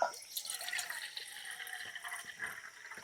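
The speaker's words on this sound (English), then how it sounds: "So now to put 500ml in each pot." About 500 ml of water is poured into a camping stove pot for a Primus Lite Ultra or Jetboil Stash system, giving a soft, steady splashing trickle with small drips, fairly faint and close.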